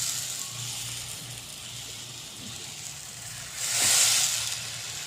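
Steamed eggplant tossed into a hot pan gives a soft, continuous sizzle that swells into a brief louder hiss near the end, with no talk.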